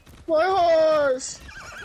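A horse in the Far Cry 6 video game gives one loud, close, drawn-out whinny lasting about a second, which trails off into quieter game noise.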